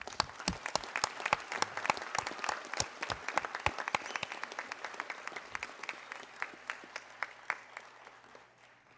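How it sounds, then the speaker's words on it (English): Audience applause fills a graduation ceremony honoring doctoral students, a dense crowd of clapping hands sustained for about nine seconds and thinning slightly toward the end. "let's applaud for these last doctoral students"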